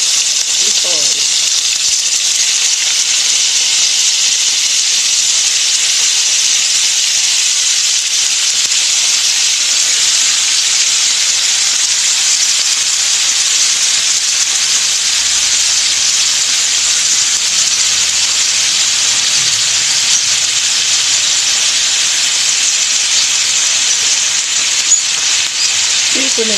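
Tomatoes frying in a pan give off a steady, even sizzle and hiss that carries on unbroken throughout, with faint voices underneath.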